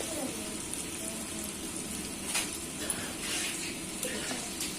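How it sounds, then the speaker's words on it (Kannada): Jackfruit manchurian pieces frying in a pan of oil give a steady, soft sizzle with faint crackles throughout, close by, with no talking over it. "ಅದರಲ್ಲಿ ಸಾಧಾರಣ ಒಂದು ಇಪ್ಪತ್ತು ಪೀಸ್ ಹಾಕಿ ಫ್ರೈ ಮಾಡ್ಬೋದು"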